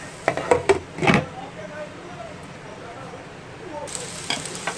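Drumstick pods drop into a pan of frying onions, ginger and garlic with a burst of clattering and sizzling, then settle into a soft, steady sizzle that swells again near the end.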